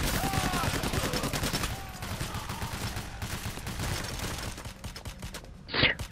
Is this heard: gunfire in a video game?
yes